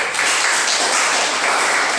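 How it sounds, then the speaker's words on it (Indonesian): A class of students applauds a classmate in a school lesson: dense, steady clapping that fills the whole brief moment at close range, with no talking over it. "Oke, tepuk tangan untuk Arwadi."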